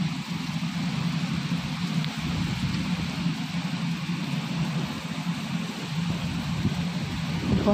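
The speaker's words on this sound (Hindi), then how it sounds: "बम्पर बारिश हो रहा है।" Heavy monsoon-style rain in Pune, India, pours in a steady, dense hiss throughout, with a low rumble underneath and no voices.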